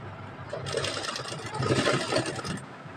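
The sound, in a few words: sewing machine stitching a baby dress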